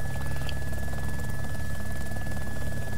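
A helicopter in the video game DayZ Epoch hums and thrums steadily, with a constant rotor and engine drone throughout.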